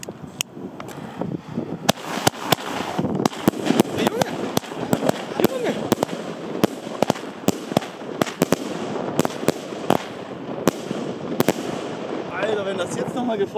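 Rapid, loud New Year's Eve firework battery of 20 mm shots cracks in a dense string for over ten seconds, many sharp bursts overlapping, with voices faintly underneath.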